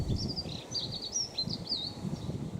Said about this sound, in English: I got a little bird tweeting away up at the tree